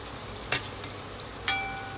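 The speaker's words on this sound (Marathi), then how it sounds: "मस्त तळत आलेले आहेत भजी" Spring onion bhaji deep-fry in oil with a soft, steady bubbling hiss, punctuated by two brief sharp clinks of a utensil.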